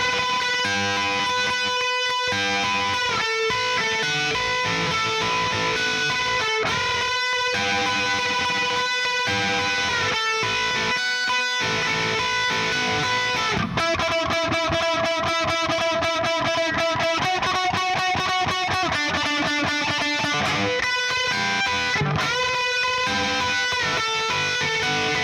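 Heavily distorted electric guitar riff run through an effects unit, loud and continuous, with sustained chugging chords that shift into a denser, rapid repeated pattern partway through; no voices.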